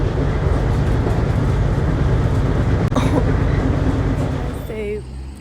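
Train station ambience outdoors at night, with a steady loud rumble of a train and traffic noise filling the space, a brief clunk midway, and a squeal as the sound eases off near the end.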